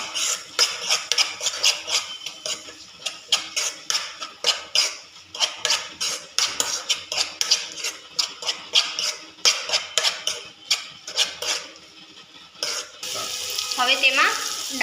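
Dal being stirred and mixed with salt and turmeric in a pot, rapid repeated scraping and clinking strokes of a spoon in a steady rhythm, close and fairly loud, with a brief water-like pour near the end.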